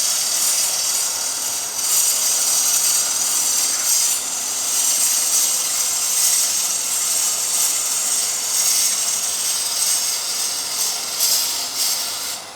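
A woodturning gouge with its bevel rubbing cuts a wooden platter spinning on a lathe, giving a continuous bright hiss that holds steady for several seconds and then fades at the end.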